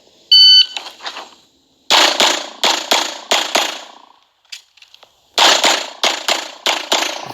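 A Glock 45 pistol fires on a USPSA classifier stage, a timer beep followed by two strings of four sharp, loud outdoor shots in quick pairs, separated by a pause with faint clicks of a reload.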